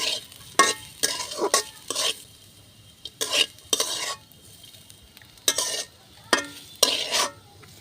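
Cumin seeds and carrots frying in a pan for prawn pulao, a soft steady sizzle broken by repeated bursts of stirring and spoon scraping against the pan.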